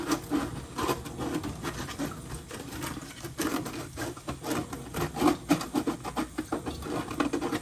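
Salt crystals are rubbed and scraped off a Lexan RC car body, giving a close, continuous gritty rasping in uneven back-and-forth strokes with no talking.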